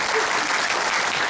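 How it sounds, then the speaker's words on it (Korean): Applause from a book-concert audience in Gwangju fills the room as dense, steady clapping, loud and close throughout, with no talk on top. "박수 한번 주십시오"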